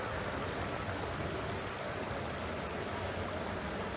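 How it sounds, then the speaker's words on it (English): A creek in West Virginia flows in a steady, dense rush of water, close and unbroken throughout, with no voices. "Check out this creek."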